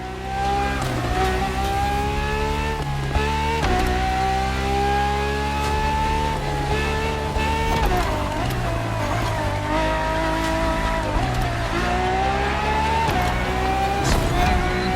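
A Ferrari racing test car in The Crew Motorfest video game, its engine loud and close, revving up through repeated gear shifts with brief dips between pulls and a steady high whine.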